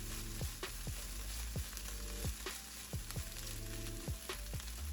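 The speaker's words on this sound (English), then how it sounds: "if you like it a little crispier, you can just keep sauteing it even more" Vegetable fried rice sautes in a pan with a continuous loud sizzle, broken by regular thumps and scrapes of the spatula tossing the rice, close up and without talk.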